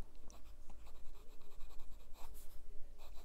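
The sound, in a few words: writing with Lamy Aion fountain pen nib on paper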